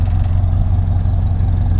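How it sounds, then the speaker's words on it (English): A 1964 Oldsmobile Cutlass F85 convertible engine idles close by, a smooth, even low rumble that stays steady without revving. "You can hear that engine. It's quiet."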